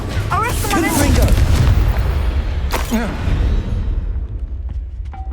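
A booming Confringo blasting-curse explosion in Hogwarts Legacy, with a loud rumbling blast and crackling bursts that fade out over several seconds.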